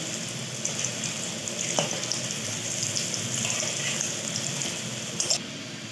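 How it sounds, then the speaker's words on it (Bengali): Fritters sizzling in a pan of hot oil as they are turned, a dense continuous close-up frying hiss with a few scraping knocks from the turning. "এবার এগুলো আমি উল্টে পাল্টে লাল লাল করে ভেজে তুলে নেব।"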